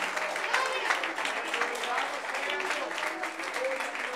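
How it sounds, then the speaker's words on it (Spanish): Steady, full applause from a church congregation at an evangelistic service carries on without a break, a broad wash of many hands clapping at even volume with faint voices mixed in. "Más fuerte ese aplauso, porque es para Dios."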